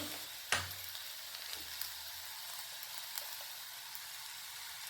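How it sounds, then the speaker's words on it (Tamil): Greens powder being stirred into sautéed greens in a hot pan gives a soft, steady sizzle and frying hiss with a few faint scraping stirs, and no voices. "ஒரு ஸ்பூன் கீரை பொடி எடுத்து இதில் சேர்த்துருக்கேன் நல்லா பெரட்டிட்டு ஸ்டவ் ஆஃப் பண்ணிடுறேன்"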